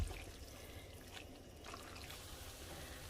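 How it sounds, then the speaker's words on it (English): Starchy pasta water trickles from a cup into a pan of creamy fettuccine alfredo, a faint, steady dribble with no talking. "I'm going to get some of my pasta water, just a little bit, and add it."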